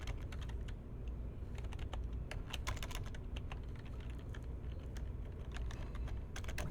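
Close, steady typing on a computer keyboard, a quick run of light clicking keystrokes over faint background hiss with no talking.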